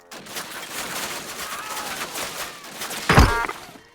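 Gunfire in Call of Duty Classic, rapid bursts of shots rattling continuously under battle noise, ending in a loud, sharp close blast.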